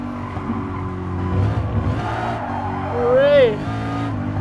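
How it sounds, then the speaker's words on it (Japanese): A car drifts in Gran Turismo Sport, engine droning steadily while a rising, wavering tire squeal swells near the end, with someone talking over the game. "パワードリフト余裕だぜ。"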